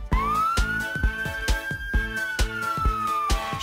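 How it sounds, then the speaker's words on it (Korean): A police-car siren tone wails steadily over a bouncy, evenly paced musical beat, worked into a Korean children's song from the Tayo the Little Bus series. "날쌘 도둑 잡는 멋진 경찰차."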